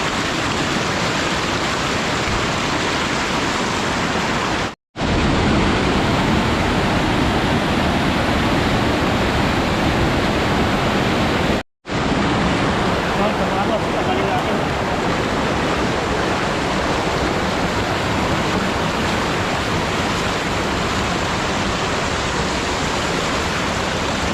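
Water rushes steadily over a small waterfall, a loud, continuous roar close by, broken only by two brief cuts.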